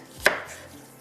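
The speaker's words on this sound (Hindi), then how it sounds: "स्लाइस में प्याज कटिंग करेंगे" A single knife chop on a board while slicing onion for a karahi masala, one sharp close thud standing alone, followed by quiet room tone.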